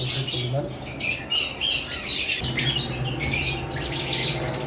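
Lovebirds squawking as they fight, harsh overlapping calls and chirps close by in a continuous noisy clamor with a low steady hum underneath.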